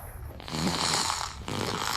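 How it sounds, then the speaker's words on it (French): A man snoring loudly in a cabin, two long rasping breaths close to the listener, each building to a rough rattling peak. "cette cabine, c'est avec un gars qui ronfle. Très fort."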